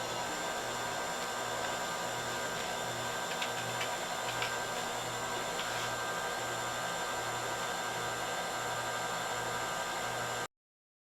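An electric hand mixer blends warm mashed sweet potatoes for a cinnamon roll cake, a steady motor whir with a low pulsing drone running without a break for about ten seconds, then cutting off abruptly.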